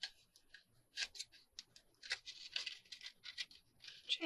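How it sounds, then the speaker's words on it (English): Close, faint snipping and crisp rustles of scissors cutting a paper envelope, in irregular bursts of short crackly strokes with no talking. "My scissors weren't scissoring."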